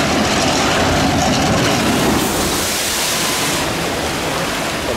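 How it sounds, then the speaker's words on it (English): A loud, continuous rush of splashing water as a log flume boat plunges into the pool at an amusement park, with a broad roaring wash that holds throughout. "here comes the splash."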